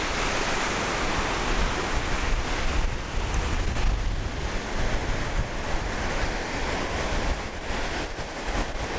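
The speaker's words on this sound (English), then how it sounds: "It's very windy, but it feels so good." Strong wind buffeting across a lake shore with waves washing in, a loud continuous roar with gusty surges and rumbling wind noise on the microphone throughout, no voices.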